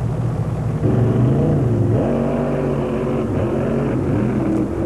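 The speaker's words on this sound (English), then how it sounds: "Castro running the DOT cut tires, runs a small block Chevrolet engine with a turbo 400 transmission." Drag racing car with a small block Chevrolet engine and turbo 400 transmission at an NMRA event in Pomona, revving loudly and steadily, the engine pitch climbing and dropping in several surges, close and continuous with no talk.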